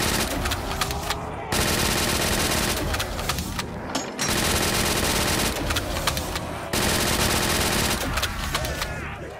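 Rapid automatic gunfire in Call of Duty: Black Ops III Zombies, a custom map on PC, with loud sustained bursts broken by brief pauses, dense and close throughout.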